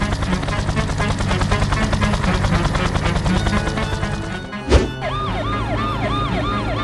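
An ambulance siren starts wailing in rising and falling sweeps near the end, following loud music and a sudden thump.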